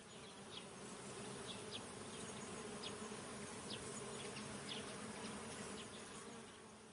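Bees buzz in a dense, continuous drone that holds steady and fairly close for the whole stretch, with no voices over it.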